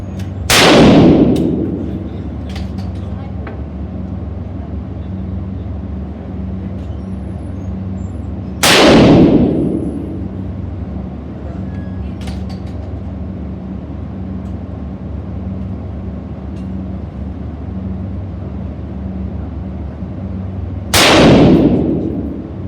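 A Saiga 308-1 rifle in 7.62 caliber fires three loud, widely spaced shots, each a sharp crack with a long echoing decay and a low hum between them. No one speaks.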